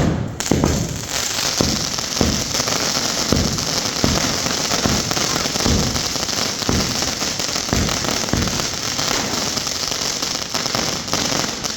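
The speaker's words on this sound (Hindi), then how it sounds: "उस समय से सिर्फ पटाखे चल रहे हैं।" Firecrackers burst in a repeated series during Chhath festivities, one sharp crack after another at a fairly regular pace. Each crack is loud and close over a constant background rumble, and no voices are heard.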